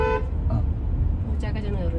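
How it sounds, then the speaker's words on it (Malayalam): A car horn honks in short bursts amid busy traffic noise at a road junction, with engine rumble underneath. "ഹോണടി ഹോണടി ഹോണടി ജംഗ്ഷനാണ്"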